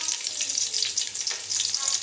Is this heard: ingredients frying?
yes